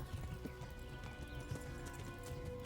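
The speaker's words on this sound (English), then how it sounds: "Well, I guess I might as well just ride my horse." Horse hooves clip-clop at a steady riding pace in the medieval game Kingdom Come: Deliverance, faint repeated thuds over a low rumbling background.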